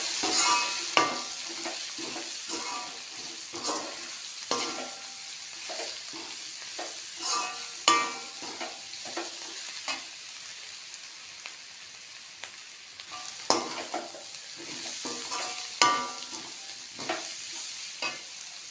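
Chilli chicken frying in a pan with pepper and chilli powder, a soft continuous sizzle broken by regular scraping and clinking stirs of a spoon, close but fairly quiet.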